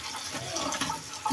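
Tap water runs and splashes over freshly picked rooftop garden greens being rinsed in a sink, a steady close trickle with faint handling sounds.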